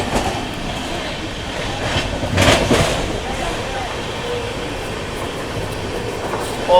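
Shatabdi Express running through Kurukshetra Junction, heard from inside an AC chair car: a steady loud rumble with rhythmic clattering wheels and a brief louder swell, with faint voices in the background.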